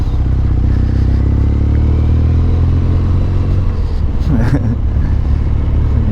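An air-cooled scrambler motorcycle engine runs loud and close, holding a steady low rumble at idle for several seconds with a slight rise near the end.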